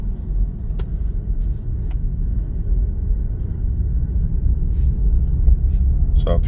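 A 2021 BMW G20 330e hybrid drives with a continuous low road rumble and engine drone as the accelerator is released, with faint clicks over the steady noise.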